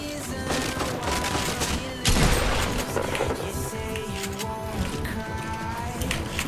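Gunfire in a video game, rapid bursts of shots and a heavier boom around the middle, layered over busy game effects and background music.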